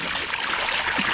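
Hot spring water pours and gurgles into a container in a steady, close, moderately loud rush of splashing and trickling, with no voices.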